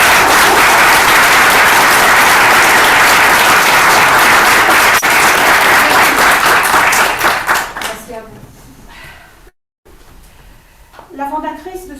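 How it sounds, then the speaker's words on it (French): A seated audience at an academic honours ceremony breaks into loud, sustained applause for an honoured guest. The clapping fades out after about eight seconds, and a person then starts speaking. "Je vous prie de l'applaudir."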